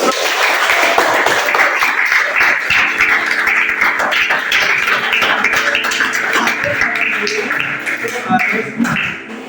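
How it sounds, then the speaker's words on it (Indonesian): Small classroom group claps in an uneven, loose patter that fades toward the end, while a sustained tone and faint voices sit underneath. "Ya, berikan tepuk tangan."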